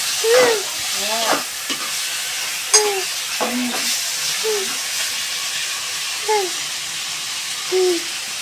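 Sliced potatoes fry in hot oil with a continuous soft hiss, while short high-pitched voices, like a small child's, chirp over it at intervals.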